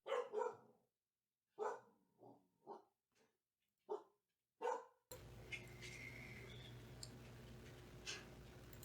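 A dog barks in a series of separate, sharp barks with short pauses between them, then the scene cuts to a steady background hum.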